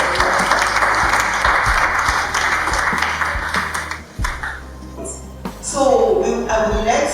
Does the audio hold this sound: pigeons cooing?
no